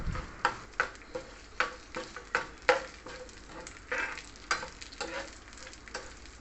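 Urad dal and cumin seeds sizzle in hot oil, a soft steady crackle punctuated by repeated sharp ticks of a spoon stirring against the pan, close and fairly quiet.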